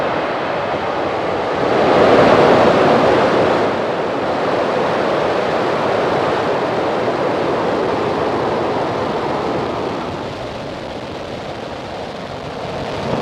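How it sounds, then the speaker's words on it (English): A SpaceX Falcon 9 lifts off on a Starlink mission, its engines producing a continuous, broad, rushing roar that swells briefly and then holds steady, heard from a distance without voices. "Ignition and liftoff."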